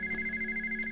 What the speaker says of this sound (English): Ooh, the phone! Who's calling?